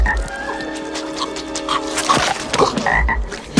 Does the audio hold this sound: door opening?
no